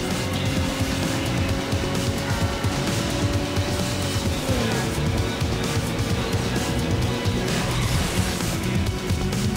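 Racing cars from Need for Speed Underground drone loudly and continuously, engines revving with tyre noise and a busy, dense wash of sound that fills the whole stretch.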